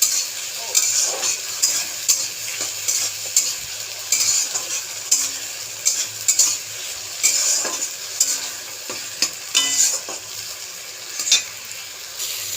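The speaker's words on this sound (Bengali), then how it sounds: "মশলাটাকে হালকা একটু ভেজে নেব।" A paste of ground ginger, garlic, onion, green chili and pepper fries lightly in a pan with a bright, continuous sizzle and repeated rhythmic scrapes and clicks of a stirring utensil, close and fairly loud throughout.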